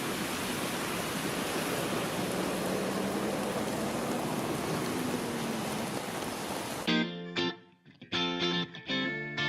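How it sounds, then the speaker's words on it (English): Heavy rain pouring down outdoors in Taipei, a dense steady roar for about seven seconds before cutting away to someone talking. "Look at how heavy that rain is."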